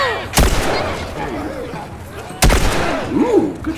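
Gunfire in the video game The Last of Us: two loud, sharp shots about two seconds apart, each with a booming tail, while quieter game ambience and bits of voiced chatter fill the gaps.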